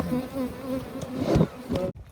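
Honey bees buzz around a hive being relocated, a dense close droning hum with a few louder bursts as bees pass near, cutting off abruptly at the end.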